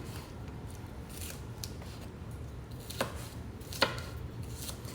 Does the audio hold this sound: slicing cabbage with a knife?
yes